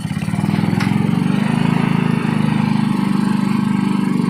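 A Yamaha Nouvo Z125 scooter engine runs steadily just after starting, a close, loud, even idle putter with a low rumble and no talk over it.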